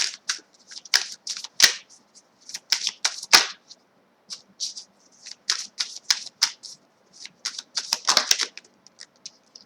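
Oracle cards are shuffled by hand in repeated quick bursts of crisp riffling and slapping, each run lasting about a second with short pauses between, close and clear with no talk.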